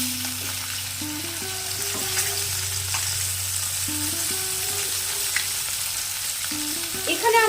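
Koi fish fry in oil with a constant close sizzle and occasional crackling pops, a faint steady hum and a few tonal clinks running underneath, no speech.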